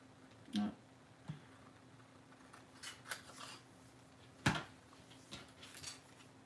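Quiet scissor snips sound up close cutting paper, a few scattered crisp cuts with pauses between them, against a faint background hum.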